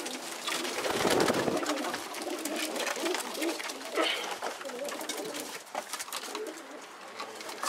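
Pigeons coo softly and repeatedly close by in a coop, layered over a rustling, fluttering background with faint talk.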